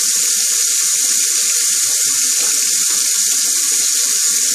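Running tap water pours steadily and loudly into a sink while a razor is rinsed under it, a constant close splashing hiss from start to finish.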